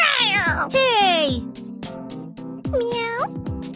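Several high, sweeping meows from a cartoonish cat in the game Jobi's Fire Station over steady game music, close and clear, one after another.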